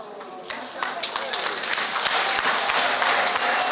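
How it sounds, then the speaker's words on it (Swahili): Applause breaks out at a women's development meeting in Machakos, starting with a few claps and quickly building into steady, dense clapping from a crowd, with a voice speaking faintly underneath. "Jameni, makofi kwa Gavana Professor Kivuta Kibwana"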